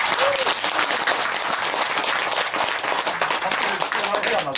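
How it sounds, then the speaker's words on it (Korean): An audience claps in a lively burst after being asked to applaud during a Korean gathering, the dense clapping running throughout while voices talk over it. "박수 한번 주세요."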